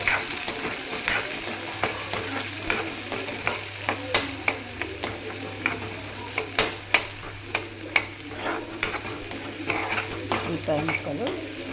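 Chopped onion pieces frying in a pan, a continuous sizzle broken by frequent scraping and stirring strokes of a spoon against the metal, close and steady with no talk.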